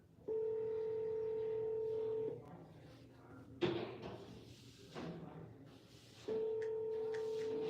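A steady dial tone on a telephone during real estate prospecting calls sounds for about two seconds, gives way to a few soft clicks and thumps, then returns, faint and close.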